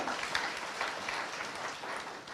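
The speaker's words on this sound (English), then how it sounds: "Let us give ourselves a clap for that as well." Audience applause at an NGO sector conference, a dense steady patter of many hands clapping in a hall, sustained and fairly even throughout with no talk.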